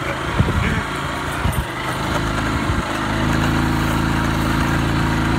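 Motorcycle engine running, fueled from a bottle of gasoline, rumbling close and loud with a rough, uneven idle that steadies into a continuous drone partway through.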